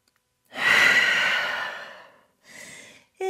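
A single deep inhale and exhale during a yoga class in downward dog, long and close, followed by a shorter second breath and a brief faint sound at the end.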